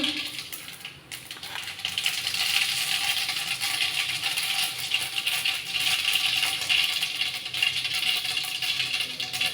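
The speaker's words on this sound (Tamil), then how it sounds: "கடுகு பொரிஞ்சிச்சு" Mustard seeds sputter and crackle in hot oil in a pan for a bitter gourd thokku, a dense continuous popping and sizzling close by, with no talking.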